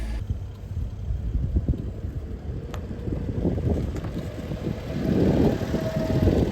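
A Honda Street kei van engine runs steadily at close range, a low rumble under broadband wind buffeting that swells louder toward the end.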